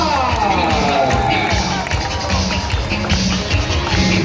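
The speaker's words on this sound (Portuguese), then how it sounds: "Uma salva de palmas!" Crowd at an anime convention panel in Brazil cheering and clapping, loud and dense, with voices mixed into the noise throughout.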